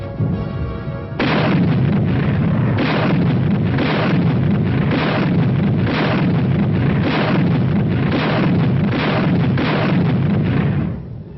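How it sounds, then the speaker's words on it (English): Tank guns firing as artillery with added elevation, a loud run of repeated booming blasts in a rough rhythm of about one per second, sustained over a rumbling background. "With a little added elevation, a tank's rifle can be darn good artillery."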